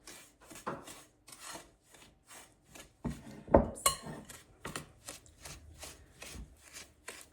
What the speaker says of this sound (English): you're just pushing it against the bowl to where you can incorporate the sugar into the butter